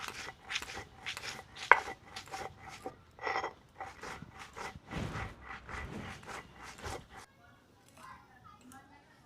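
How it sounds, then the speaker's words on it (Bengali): Cooled roasted spices are crushed coarsely for raw mango pickle with a rapid series of close, crisp pounding and grinding strikes in uneven bursts, with some talking mixed in. "এবারে মশলাগুলোকে আমি গুঁড়িয়ে নেব। খুব মিহি করে গুঁড়াবো না, একটু হাফ হাফ থাকবে"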